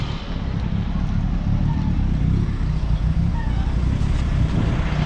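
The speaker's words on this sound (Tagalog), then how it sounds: "pag pinakinggan natin yung andar, hindi siya stable" Toyota 2E engine in a Corolla Lovelife idling roughly, a steady close low rumble with slight uneven pulsing throughout and no clear revving.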